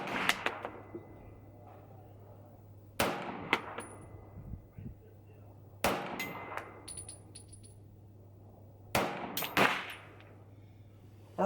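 A CZ Shadow 2 pistol firing CCI Blazer ammunition at a range: four sharp shots spaced about three seconds apart, some with quick echoes, over a quiet low hum.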